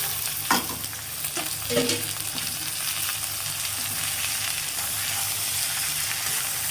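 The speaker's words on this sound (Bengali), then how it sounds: "মরিচ পেঁয়াজটা ভাজা হয়ে গেছে, আমি এখন এখানে শাকটা দিব।" Leafy greens drop into a pan of frying chili and onion, with a few sharp rustling stirs early on. A loud, continuous hiss and sizzle follow alone.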